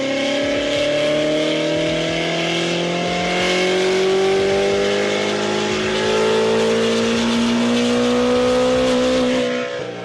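A BMW S63 twin-turbo V8 pulls hard through the gears, its tone climbing steadily in long sweeps, loud and continuous with no talking.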